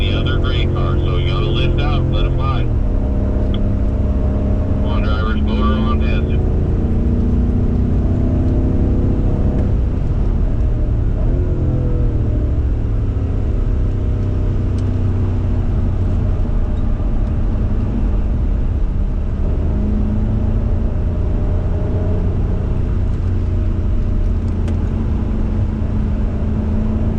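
BMW F90 M5 sedans driving on a race track at a performance driving school, with a loud, steady engine drone and shifting harmonic tones, under steady instructor speech.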